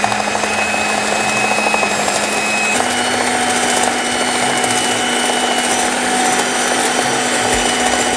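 An electric mixer whisking egg whites, sugar and vinegar into meringue, a steady loud motor whir with a constant pitch that shifts slightly partway through, running alone without pause.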